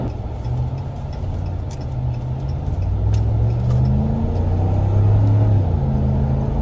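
A 2021 Dodge Ram V8 pickup idles with a deep, steady rumble that swells gently as the engine is given a little gas, close and continuous with no talk.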